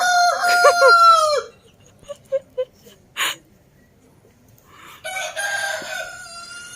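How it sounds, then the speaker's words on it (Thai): A rooster crows loudly nearby, followed by a few short clucks and quiet, then a second long crow begins. "ได้ยินเสียงไก่นะเพราะว่า ปั๊มเขาเลี้ยงไก่"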